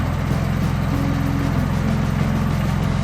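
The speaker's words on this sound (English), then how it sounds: "it's just fucking idling, isn't it?" Jeep JK with an 8-speed swap idling, a steady low rumbling engine drone close by that holds even throughout, with no talk over it.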